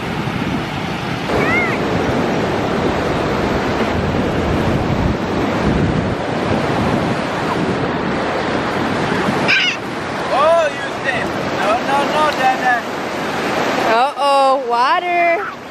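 Loud, continuous surf washing onto a beach with rushing wind noise; later, distant voices and shouts rise over the waves.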